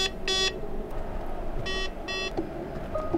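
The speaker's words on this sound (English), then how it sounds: "as soon as you hear the beep" Three short bursts of an electronic Tesla Model X chirp at spaced intervals, fairly loud over a steady low rumble of background noise.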